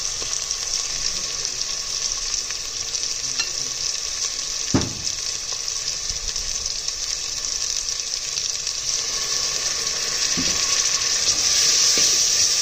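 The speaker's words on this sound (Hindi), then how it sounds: "तो हम अच्छी तरह से फ्राई करेंगे और साथ ही हम लोग दूसरे मसाले इसमें ऐड कर देंगे" Masala with garlic paste frying in a pot for aloo besan handi, a constant close sizzle with a few sharp utensil knocks and scrapes.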